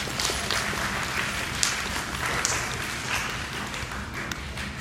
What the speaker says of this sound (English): Give yourselves a round of applause for you making it to school this morning.